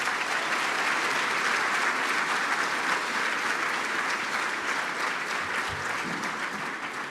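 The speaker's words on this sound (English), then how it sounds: "Please let's give them a round of applause." Steady round of applause from a gala audience at a 30th anniversary awards dinner, dense sustained clapping that tapers slightly toward the end, with a faint voice or two underneath.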